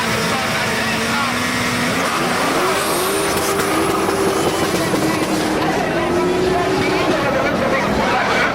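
A BMW drag racing car from Motown Performance lines up and launches in the left lane at a drag strip, a loud, steady engine roar with rising revs, heard under ongoing commentary and crowd noise.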